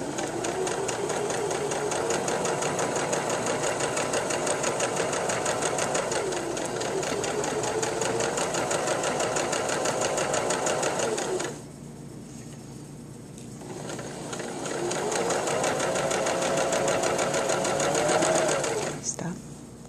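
A sewing machine runs steadily stitching a seam on a shirt being made into a bag, with a brief pause midway before the motor whirs up again, loud and close.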